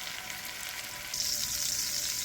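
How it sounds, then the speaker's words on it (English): Jackfruit seeds sauté in hot oil, giving a soft, steady hiss of frying that swells louder about halfway through, close by and with no speech. "then I'm gonna saute the jackfruit seed"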